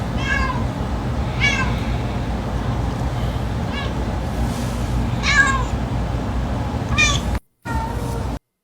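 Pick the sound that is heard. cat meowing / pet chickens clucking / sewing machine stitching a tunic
cat meowing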